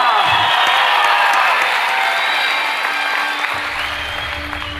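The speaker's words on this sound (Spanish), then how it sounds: "Este aplauso para todos ustedes y gracias a esta lucha se las dedicamos a todos mis paisanos." A crowd applauds and cheers after a wrestling bout, with dense clapping, whoops and shouts that gradually fade toward the end.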